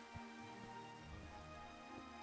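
Rain in Minecraft, heard as a faint, steady hiss of falling rain with low rumbles running through the short stretch.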